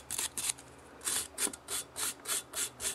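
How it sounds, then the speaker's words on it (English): A small wire brush scrubs around the magnets inside an engine flywheel in quick, even back-and-forth strokes, about ten scratchy rasps, close and fairly quiet. "What I'm going to do first is just clean around the magnets with a small wire brush."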